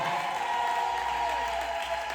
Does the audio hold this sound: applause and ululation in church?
yes